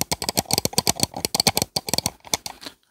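An old Echo mouse's buttons clicked rapidly, a close, dense run of sharp clicks lasting a few seconds before silence, with no voices.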